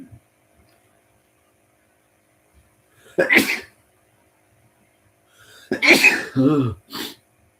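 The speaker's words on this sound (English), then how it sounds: "I think I have to sneeze." Two sharp sneezes burst out of near silence, the second followed by a brief breathy trailing sound, close and loud.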